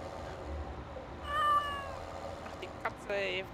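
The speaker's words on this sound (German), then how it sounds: "Ach, die Katze, ey." A cat gives a drawn-out meow and then a shorter second one over a quiet indoor background, with faint voices speaking nearby.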